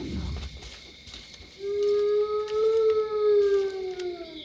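A dog howling in the video game Far Cry 5, one long, rising and wavering howl that swells and then falls away, fairly faint over a soft background.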